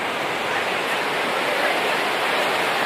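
Water pours steadily from Barvi Dam near Badlapur, a loud, continuous broadband rush that fills the scene without pause or spoken voices.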